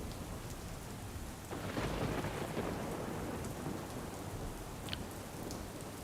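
Heavy downpour pounding steadily in a Gujarat village near Khambha in Gir, a dense continuous roar of rain that swells louder partway through, with faint distant thunder underneath.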